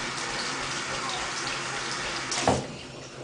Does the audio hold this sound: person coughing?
no